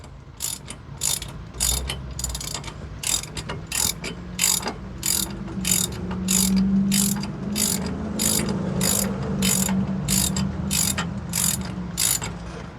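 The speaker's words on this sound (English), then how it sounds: "this is a short ratchet" A short hand ratchet tightening a hub bolt during a 4x4 hub and bearing swap, giving a close series of regular crisp clicks, about a dozen strokes in steady rhythm, with a low background hum.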